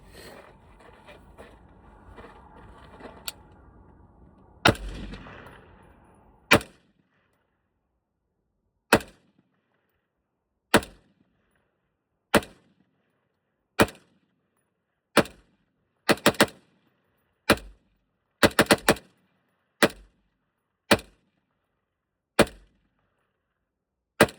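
A KS-3 gun fires a series of loud, sharp shots, mostly single reports spaced a second or two apart with a few quick doubles, standing alone against silence after some brief handling noise at the start.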